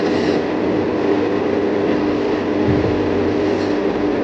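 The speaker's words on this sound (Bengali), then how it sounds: "তারপর আমাদের ট্রেন সামনের দিকে যেতে লাগলো" A moving metro train gives a steady, even rumble with faint rail clatter, heard from inside the car as a continuous drone without talk.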